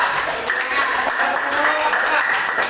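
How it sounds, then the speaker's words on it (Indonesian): A school class applauds a student group, a dense, steady wash of clapping lasting throughout at moderate loudness, with faint voices mixed in. "tepuk tangan untuk kelompok 2"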